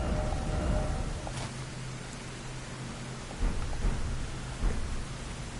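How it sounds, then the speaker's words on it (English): Steady rain falls with a broad, hissing wash, joined by low rumbles that sound like distant thunder, with no talk. "It's raining"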